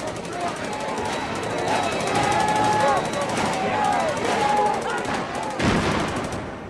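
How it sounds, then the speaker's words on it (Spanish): Pistol gunshots break up a crowd during a large-scale street brawl with police: sharp repeated reports and rapid volleys over a loud, continuous crowd roar, with one heavy blast near the end. "Al final, los disparos de pistola consiguieron dispersar a la multitud."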